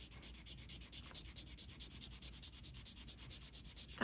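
Sterling silver jewelry is rubbed against a testing stone, giving a close, steady scraping with quick rhythmic strokes and no talk.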